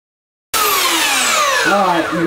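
A belt sander starts abruptly and runs loudly against a carved wooden sign, a steady whine that shifts in pitch as it dips into the work.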